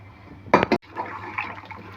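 Boiled water is poured over rice for cashew mutton biryani, giving a short splashing burst of liquid and a second brief splash, then a quieter settling trickle.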